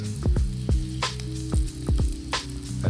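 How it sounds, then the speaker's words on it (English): Rice fries in grease in a frying pan, a steady close sizzle broken by soft thumps and crackles, with no talk. "I'm gonna cook in a frying pan as well"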